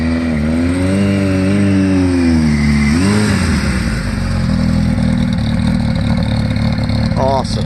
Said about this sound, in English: So those Carcraft mufflers, they give it a nice low tone.